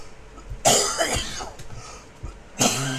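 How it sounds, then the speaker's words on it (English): A few harsh coughs close by, a cluster of quick bursts followed by another cough after a short pause. "Aside from my cough, we haven't seen any reaction yet."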